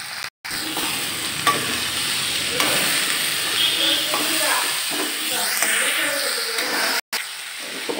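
Raw banana pieces tossed with turmeric, chilli powder and salt in a pan, sizzling steadily as a spoon stirs and scrapes through them close by, a continuous frying hiss with small clinks and one brief break.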